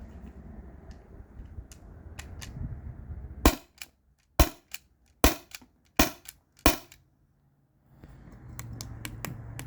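A T4E HDP50 Gen 2 pistol fires steel ball bearings at cans: five sharp pops spaced under a second apart, close and fairly loud, with a low background hum before and after.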